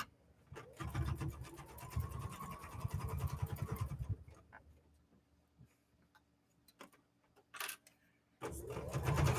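A sewing machine runs in a steady, fairly loud burst while binding is stitched onto a quilted bear wall-hanging, then stops, leaving quieter handling sounds before the motor starts up again near the end.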